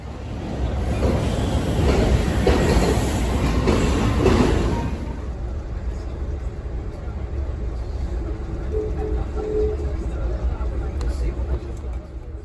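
An Amtrak passenger train in Virginia rumbles along steadily nearby, louder at first with a dense roar, then easing into a softer continuous rolling noise with faint squeals.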